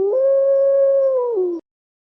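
A single long, steady wolf howl, loud and close, holding one pitch before dipping slightly at the end and cutting off cleanly, with silence after.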